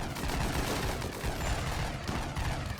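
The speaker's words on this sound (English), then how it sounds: "Stop shooting your friends." Raiders' gunfire in the colony game RimWorld, a dense, continuous rattle of rapid shots layered over one another throughout.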